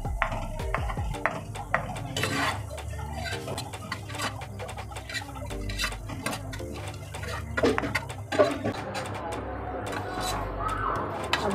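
Food frying in a pan until golden brown for a green mutton curry, a steady close sizzle with frequent stirring clatter and scraping throughout, under a continuous low hum, with speech-like sounds in places.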